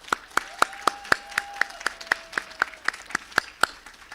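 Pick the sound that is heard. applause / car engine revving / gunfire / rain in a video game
applause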